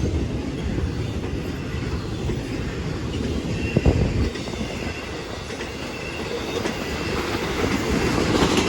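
A train rumbles steadily past on the tracks at Lake Avenue in Blasdell, New York, heavy continuous roar with rhythmic wheel clatter and a brief metallic clank, close and loud.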